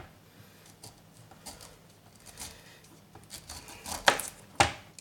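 A sturdy knife cuts through a pineapple on a board; quiet scraping builds to two sharp, crisp chops near the end, close by and with no talking.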